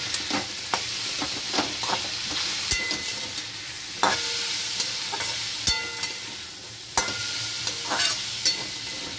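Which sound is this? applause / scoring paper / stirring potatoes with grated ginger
stirring potatoes with grated ginger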